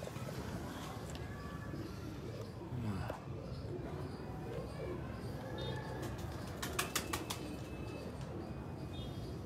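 Pigeons at a loft where a breeder shows off red-eyed birds coo softly and flutter their wings, close and steady over a busy background with brief flapping bursts, while people talk nearby.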